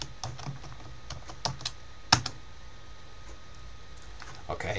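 Keystrokes on a computer keyboard entering an Ubuntu terminal install command, a run of light, irregular clicks with a sharper louder tap midway and a short burst near the end, fairly close against a quiet room.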